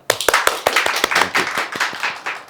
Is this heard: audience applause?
yes